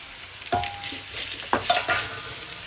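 Cut potatoes tipped into a pan of frying prawn head gravy, giving a few sharp clattering drops and scrapes over a low, steady sizzle.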